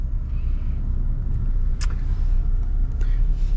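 Car traffic rolls along a highway in Guatemala with a loud, continuous low rumble of engines and tires, steady and close throughout, with a brief high squeal partway through.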